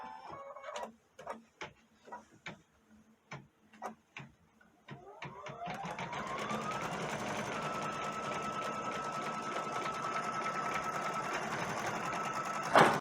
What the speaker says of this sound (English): I'm going to push embroidery, and I'm going to sew that last part on there.